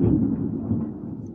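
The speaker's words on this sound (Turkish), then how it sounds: "Gök gürültüsü." A low, continuous rumble of thunder rolls on steadily, deep and heavy, with no voices.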